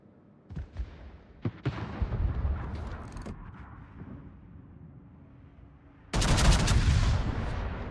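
Battleship guns fire in the naval combat video game World of Warships, with several sharp booming shots early on, a quieter rumbling lull, then a loud heavy salvo that rolls on afterward.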